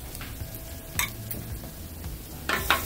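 Tater tots with bacon and onions are stirred on a hot griddle with a metal spatula, giving soft scraping strokes and occasional sharp clicks over a faint steady sizzle.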